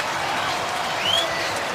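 Stadium crowd at a 2017 NFL game between the Texans and Patriots in Foxborough, reacting to a replay on the big screen; a steady, dense roar with scattered applause swells slightly near the end.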